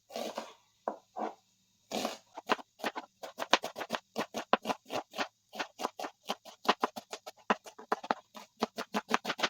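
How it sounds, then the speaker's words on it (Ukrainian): An onion being cut into small cubes with a knife on a board, a few slow taps first and then a quick, steady run of sharp, close chops with no talking. "І Зараз ріжемо швиденько цибульку."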